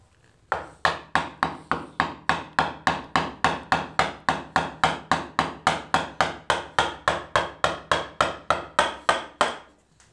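A homemade wooden mallet strikes repeatedly, about thirty sharp woody knocks in a fast, steady rhythm, each close and loud with a quick decay, continuing for nearly ten seconds with no talking.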